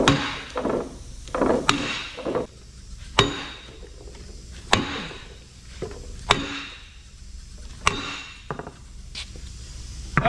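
Heavy hammer blows land on the metal equalizer bar of a Cat D9R bulldozer at a slow, uneven pace, each sharp clang ringing out and fading before the next strike, close by.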